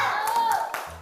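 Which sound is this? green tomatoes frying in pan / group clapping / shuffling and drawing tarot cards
group clapping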